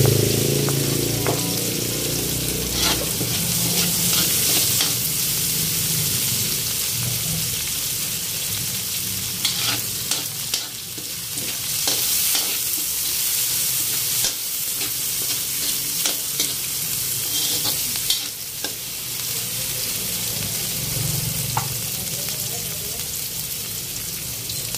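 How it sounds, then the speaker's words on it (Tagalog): Garlic, tomato and onion sautéing in a pan for chicken pineapple, a dense constant sizzle close by with occasional spatula scrapes and clatters. "Lagyan na natin yung kamatis. Lagyan na natin dito yung sibuyas."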